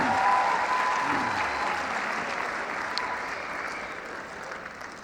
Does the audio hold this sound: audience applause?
yes